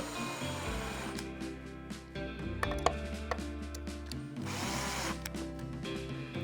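Screws driven into the plastic connector housing of a Fostex 6301NE mixer, a whirring mechanical grind with a few sharp clicks, close and steady, no talking.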